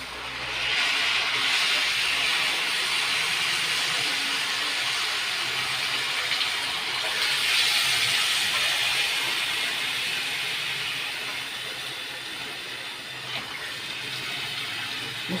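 Cold tap water runs into a cooking pot for koshari, a steady hissing rush lasting around fifteen seconds that eases slightly toward the end, with no talk.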